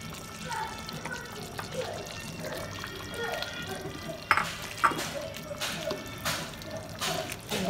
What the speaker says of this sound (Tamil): இந்த நேரத்தில் நம்ம அரைச்சி வச்சுருந்த இந்த தேங்காவை இதில் ஊற்றிடலாம்